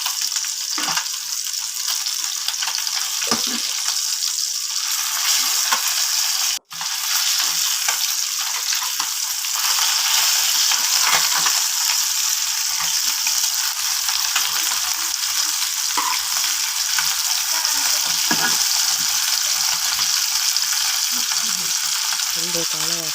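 Pabda fish fry in hot oil with a loud, continuous close-up sizzle and crackle that cuts out briefly once before resuming steadily.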